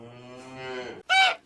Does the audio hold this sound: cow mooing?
yes